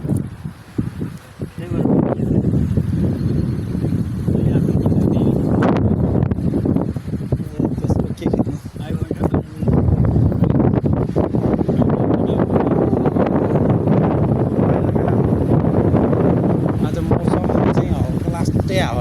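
Steady wind buffets an outdoor microphone as a low, continuous roar for the full stretch, dipping briefly near the start and middle, with people talking underneath.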